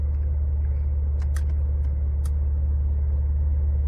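A Ford Explorer ST engine runs steadily in gear, a deep, even, loud low rumble close up with a few faint clicks and ticks over it.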